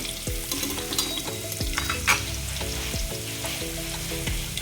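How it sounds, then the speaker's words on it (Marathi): Bay leaves stirred in hot oil in a frying pan, a continuous close sizzle with repeated scraping strokes and clanks of a spoon against the metal, no voices. "आता त्यामध्ये आपण तमालपत्र घालून घेऊ मग याला थोडंसं मिक्स करून घेऊ"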